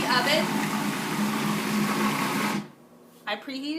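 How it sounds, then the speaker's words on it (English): A countertop blender whirs loudly and steadily through black bean brownie batter with oats, then cuts off abruptly, leaving a quiet kitchen before a voice begins speaking. "Now while that's blending"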